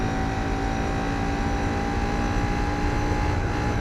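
Steady car engine drone in the Gran Turismo 4 racing game, an odd, rough-sounding car with a constant low rumble and a thin whine held at one pitch, loud and unbroken throughout with no speech.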